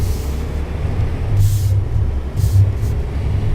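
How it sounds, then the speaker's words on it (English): A Peterbilt truck in American Truck Simulator with a steady low engine drone while driving, joined by brief hissing bursts that sound like air releases. "So let's take a little trip with this Peterbilt."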